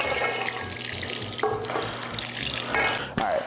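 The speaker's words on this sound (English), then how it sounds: "Go ahead and pour that gravy on in." Gravy poured over cube steaks in a Magnolite pot, a steady close pouring and sizzling wash with a few soft clinks and splashes near the end.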